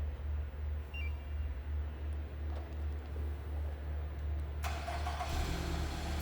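A 2017 Nissan Rogue S AWD engine is started by aftermarket remote start. A low steady hum gives way near the end to the brighter, fuller sound of the engine catching and running, heard fairly quietly.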